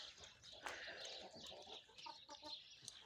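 A Denizli rooster on a poultry farm in Gördes, Manisa, gives short faint clucks and calls, quiet and near, with no other sounds.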